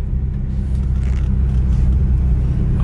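Deep, loud engine rumble from supercars such as Mustangs, GTRs and Ferraris idling close by at a car meet, a steady low drone that continues without a break.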